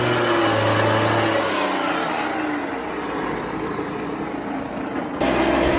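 Two-stroke Kinetic gearless scooter running on oil-mixed petrol, its small engine revving close by with a rising and falling buzzy whine that drops, settles, then picks up sharply again near the end.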